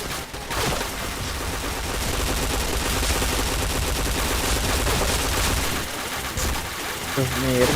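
Continuous rapid gunfire in a shooter video game, dense and loud throughout with a few bursts layered together and a voice talking over it.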